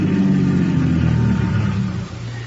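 A car in a radio drama rolls up on a foggy waterfront street and slows, its mid-range engine rumble steady and fairly loud before easing off and settling to a low idle at the end.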